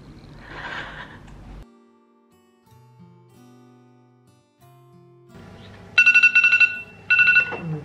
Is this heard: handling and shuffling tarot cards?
no